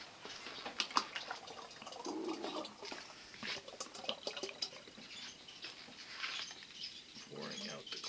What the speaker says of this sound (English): Pouring out the clay.